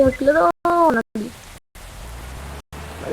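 Steady rain pattering on a surface, a dense hiss that continues after a brief burst of someone speaking, with several abrupt cut-outs.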